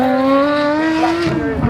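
Valhalla hypercar number 177 in double livery launches down a runway at a supercar festival, a loud close engine note rising steadily in pitch, ending with a sharp burst and tire noise.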